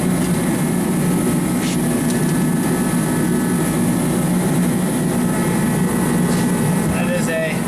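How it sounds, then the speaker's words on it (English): A heater runs steadily inside a truck-build workshop, giving a loud, continuous roaring hum with a faint rattle through the whole stretch. "sorry for the heater noise"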